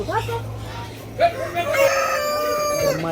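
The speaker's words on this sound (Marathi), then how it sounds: "ब्रह्मा कोंबडी" A Brahma chicken calls loudly and close by in a drawn-out, clucking cry.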